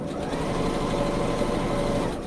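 Sewing machine back stitching a seam on a shopper tote bag: a close, continuous fast whirring hum with an even mechanical rhythm and no pauses.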